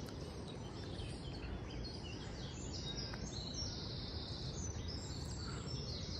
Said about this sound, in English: Just enjoy the view and the bird song.